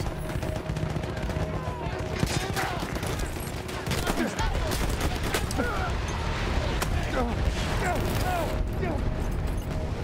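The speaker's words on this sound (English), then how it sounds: "Where the heck are they shooting from?" Gunfire rattles through a war video game in dense, continuous bursts over a busy battlefield din, loud and close, with a player talking over it.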